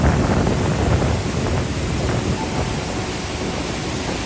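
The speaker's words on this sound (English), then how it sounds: "Can you hear the thundering sound of river Son?" The river Son rushes through a barrage in Bihar, India, heard as a continuous loud roar of churning water, steady throughout with some wind buffeting the microphone and no one talking.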